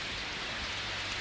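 Steady rain falls in a dense, even hiss of moderate loudness for just over a second, with no voices.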